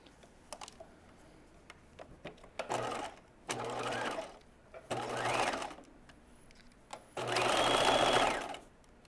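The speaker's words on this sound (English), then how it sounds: "let's put the machine on a basting straight stitch" A sewing machine running a long basting straight stitch through layers of fabric: four separate runs of fast whirring stitching, each one to two seconds long, with quiet handling sounds between.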